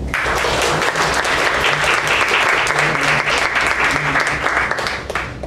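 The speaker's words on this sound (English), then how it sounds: "A round of applause for him" A meeting audience gives a steady round of applause, many hands clapping at close range in a continuous, even burst with faint voices underneath.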